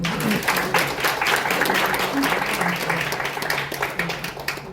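Applause from a crowd at a dental care program event, broad steady clapping from many people filling the room, loud and sustained, with a faint murmur of voices underneath.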